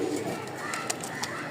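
Pigeons of the Bombay breed cooing in a dealer's loft in Mirpur, Dhaka, soft low repeated coos layered with a few brief higher calls, near and fairly faint.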